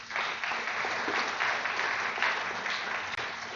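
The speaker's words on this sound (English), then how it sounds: "Let us give another round of applause for that musical selection." Audience applause after a musical selection at a Martin Luther King Jr. recognition program, a sustained broad clatter of many hands that stays level and fairly close, with no talking on top.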